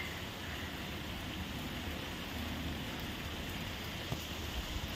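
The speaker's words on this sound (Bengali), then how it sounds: "এখনই কিন্তু টিপটিপ করে বৃষ্টি হচ্ছে" Light rain falls on a pond in a soft, even patter of drizzle, faint and unbroken, with no voices over it.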